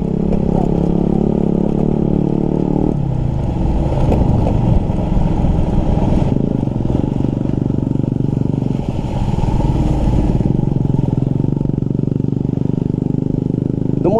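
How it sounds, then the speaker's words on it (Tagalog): A motorcycle rides in heavy rain on a slippery, wet road, its engine droning steadily and close throughout, with clatter and road noise over it. "Dumudulas lang yung motor ko."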